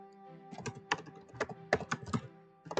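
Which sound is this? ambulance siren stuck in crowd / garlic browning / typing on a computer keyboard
typing on a computer keyboard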